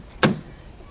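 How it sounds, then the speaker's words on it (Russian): A single solid thunk of a heavy door on a BMW E39 530d Touring shutting, one short close impact with a brief low tail, then quiet. "Дверь широкая, тяжелая. Настоящая BMW. Открывается на 90 градусов практически."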